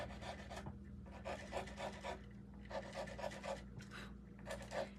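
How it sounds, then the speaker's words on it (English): Scuffing a double-sided, hand-painted wooden washboard produces close, rhythmic rasping strokes that come in repeated bursts with brief pauses between them. "Just scuffing it up."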